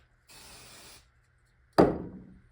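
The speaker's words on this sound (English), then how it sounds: "I'm going to spray the whole end of it with accelerator." A short hissing spray of glue accelerator lasts under a second, followed after a pause by a sharp close clack that fades quickly.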